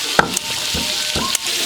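Potatoes frying in a pan for a picnic meal, a steady close sizzle with a few soft stirring clatters and knocks scattered through it.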